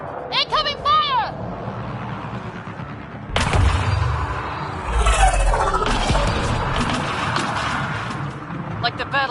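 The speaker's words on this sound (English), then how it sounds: "Incoming fire!" Gunfire and heavy impacts in the sci-fi shooter game Mass Effect Andromeda, bursts of loud shots and rumbling crashes filling most of the moment, with shouted game dialogue over the top.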